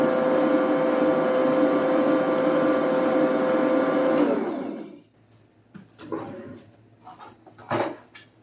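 An electric stand mixer beats strawberry gelatin cake batter with butter and strained strawberries, a loud steady whir that winds down and stops after about four seconds, followed by a few scraping and clinking sounds.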